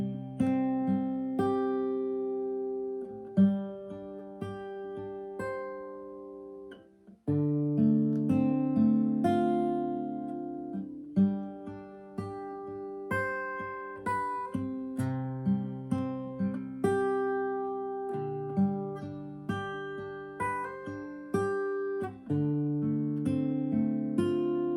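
Acoustic guitar fingerpicking the chords of Matt Redman's "Heart of Worship", each chord opened with a bass note and followed by picked notes, in a steady, gentle rhythm with notes ringing on. Quiet and alone, with no talking.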